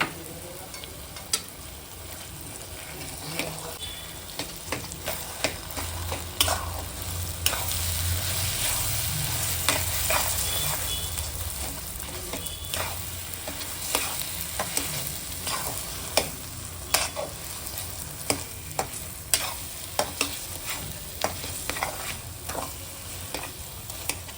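Mashed potato being stirred into a stuffed idli filling in a frying pan, repeated spoon scrapes and taps over a soft sizzle, steady and close for the whole stretch.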